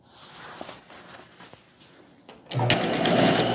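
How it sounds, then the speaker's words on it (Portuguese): A sewing machine stitches the armholes of a knit jumpsuit, joining the fabric's right side to the lining. Soft handling noises come first, then the motor starts abruptly into a loud, steady, whirring run. "eu vou começar aqui costurando as cavas da parte frente"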